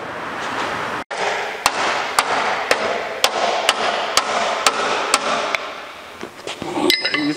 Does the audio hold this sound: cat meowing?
no